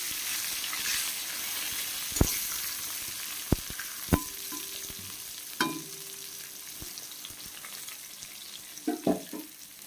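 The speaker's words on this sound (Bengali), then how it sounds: "বেগুনটাও ভাজা হয়ে যাবে।" Eggplant fries in a pan for an ilish fish curry, giving a continuous hissing sizzle broken by a few sharp clinks and stirring knocks.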